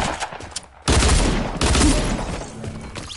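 Gunfire in the Fortnite video game: two loud, dense bursts of rapid shots, each lasting under a second, with a softer scattered shot before them and a fading tail after.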